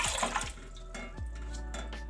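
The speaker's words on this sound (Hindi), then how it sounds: "इसमें डालेंगे हम पानी" Water pours steadily into a cooking pot set on a stove for sugar syrup, a close splashing, gurgling stream with a few louder glugs as the flow shifts, and no one speaking.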